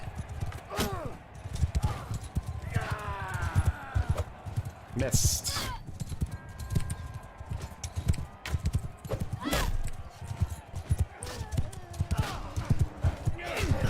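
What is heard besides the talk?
horse galloping in video game Mount and Blade II: Bannerlord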